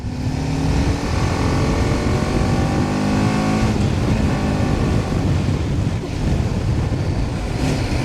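An adventure motorbike ridden along a rough road in Swat, Pakistan, makes a loud, constant close engine drone blended with heavy wind rush, with no talking.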